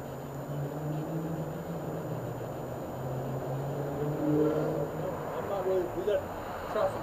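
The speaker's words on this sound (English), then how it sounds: "there's too much traffic behind us" Road traffic rolls by on a street during daytime in New Orleans, a steady mid-distance rumble of passing cars with a few engine surges toward the end, under people talking.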